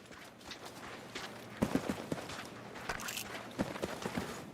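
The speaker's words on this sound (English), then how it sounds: "I'm hearing gunshots." Scattered gunshots crack at irregular intervals, some in quick bursts, set against a low background with no talking.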